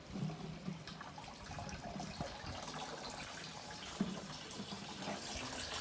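Water from a hose pipe runs into a barrel of a DIY three-barrel koi pond filter, a steady low trickling and splashing wash that continues throughout at moderate level.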